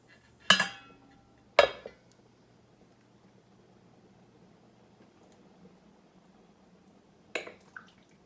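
A metal lid is set onto a pot of simmering vegetable soup, giving a sharp clink, a second clank a moment later, then quiet before a final softer clatter.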